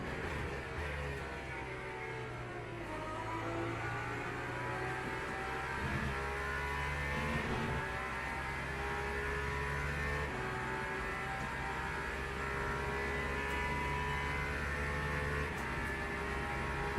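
A steady engine drone hums continuously with slight rises and falls in pitch, a race car cruising in the video game Le Mans Ultimate, without any talking.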